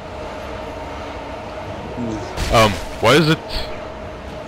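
A moving train in the game Dead Space 2 gives a steady low rumble and rattle underneath, while someone talks in two short bursts partway through.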